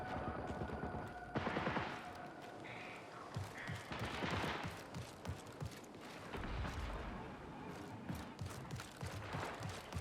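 Gunfire in the Marathon video game: rapid automatic bursts and scattered shots crackle loudly across the whole stretch, with no voices over them.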